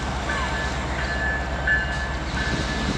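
CN mixed freight train approaching a railroad crossing: a steady low rumble of rolling cars with faint tonal ringing on top, continuous throughout.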